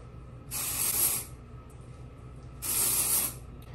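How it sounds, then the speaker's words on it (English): Dry shampoo aerosol sprayed onto hair in two bursts of about a second each, a bright hissing spray close by with a quiet gap between. "It needs some dry shampoo though, so it doesn't look oily."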